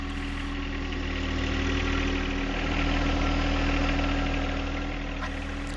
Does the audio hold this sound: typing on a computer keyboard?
no